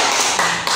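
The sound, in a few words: applause for a participant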